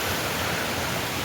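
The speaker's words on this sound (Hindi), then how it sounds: "यहाँ से ये देखो पानी आ रहा है।" Water rushing through a jungle, a steady broadband wash like a stream or small waterfall, close and continuous with no voices.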